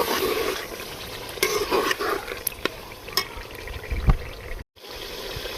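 Mutton with garam masala, salt and chilli flakes is stir-fried in a pan for achari gosht, with a steady sizzle broken by repeated scraping stirs of a spoon close by, and a brief drop to silence near the end.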